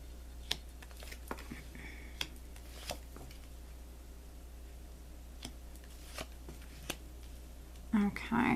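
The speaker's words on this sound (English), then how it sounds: "I had so many cards popping out as I was shuffling for you guys" Tarot cards being shuffled with scattered crisp snaps and riffles over a quiet, steady hum.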